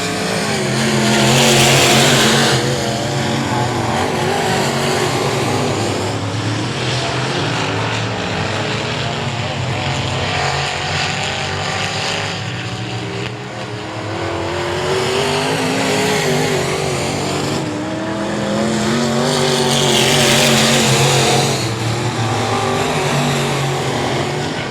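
Race cars in a heat race at I-37 Speedway roar past in loud waves, engines swelling as the pack nears and fading as it moves off, a steady motor drone filling the whole stretch.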